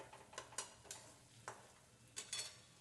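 A spoon stirs spiced potato curry in a pan, giving a few scattered scraping clinks and soft clacks at an uneven pace, fairly close and alone.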